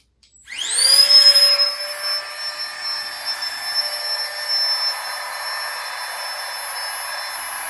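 A Flextail Tiny Pump 2X portable air pump starts up and runs with a steady high-pitched whir and drone close by, settling into a constant hum.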